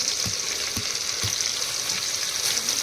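Onion and garlic fry in a pan for a village-style Maharashtrian dish, giving a steady, loud crackling sizzle throughout, with a few soft low knocks from stirring.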